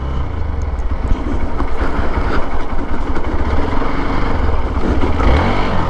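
A Hero Xpulse 200 4V motorcycle pulls away off-road in first gear over rocky, thorny ground, a loud, close engine drone that builds and holds steady, with no speech.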